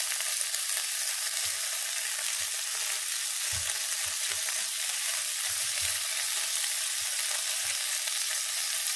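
Sausages and vegetables fry side by side in a wide pan, giving a steady, close broadband sizzle with small pops and stirring knocks scattered throughout.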